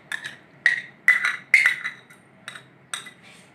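Chicken being mixed with salt, two spoons of vinegar and ginger-garlic paste for a white korma marinade, heard as about half a dozen sharp spoon-against-bowl clinks and scrapes in short separate bursts, close and fairly loud, with no talking.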